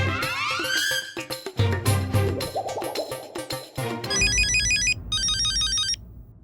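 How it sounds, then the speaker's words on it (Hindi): A telephone rings on an outgoing call in a Hindi sitcom household scene: a loud electronic ringtone with repeating bright patterned tones, following a stretch of busy music and sound effects. "मैं अब्दुल को फोन करता हूँ।"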